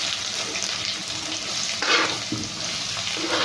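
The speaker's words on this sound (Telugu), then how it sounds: "ఇవి కొంచెం మనకు చిట్పట అనాలి" Tempering spices spluttering in hot oil for an egg and tomato dish, a dense continuous crackling sizzle with a brief louder burst midway, heard close up with no talking.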